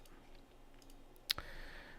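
A single sharp mouse click on a button in dyno test-viewer software, crisp and close against a quiet room hum, with a fainter second tick just after.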